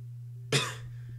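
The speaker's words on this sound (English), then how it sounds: "Sorry, I'm coughing." A single short, harsh cough from a person who is unwell, close by over a low steady hum, then quiet.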